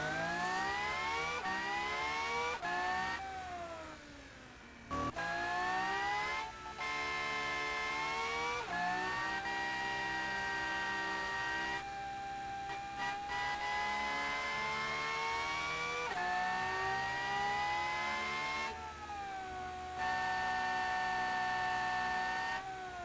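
An experimental hypercar engine drives laps of a track in BeamNG, its strong, steady whine climbing in pitch and dropping back at each gear change, loud and close with no talking.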